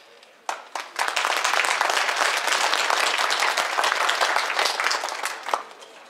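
Conference audience breaking into applause after a keynote speaker is introduced, dense steady clapping that starts abruptly and holds for several seconds at moderate loudness.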